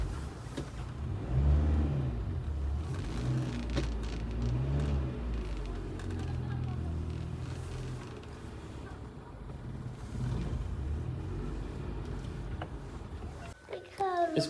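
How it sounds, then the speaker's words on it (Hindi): A car is parked, its low engine rumble running steadily under several people talking, including a child, with some wind buffeting near the end. "गाड़ी करते हैं पार्क।"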